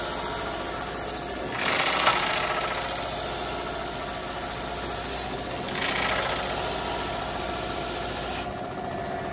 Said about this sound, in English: This is an amazing sander made for the pattern making industry.